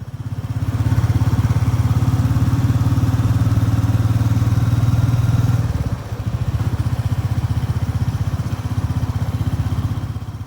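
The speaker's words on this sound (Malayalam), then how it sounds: "ഫസ്റ്റ് ഗിയർ മുതൽ ഫിഫ്ത്ത് ഗിയർ വരെ നമ്മൾ ഇടുന്നത് ആവശ്യത്തിന് വേഗത ആയതിനു ശേഷമാണ്" A motorcycle engine drones loud and close, holding a steady pitch before a clear drop around a gear change, then pulling on again with a rougher, pulsing throb.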